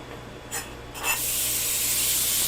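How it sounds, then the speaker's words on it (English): Bacon lands in a hot pan on a home stovetop, a couple of brief rustling scrapes before a steady, bright sizzle rises and holds, close and fairly soft. "Oh, hear that sizzle?"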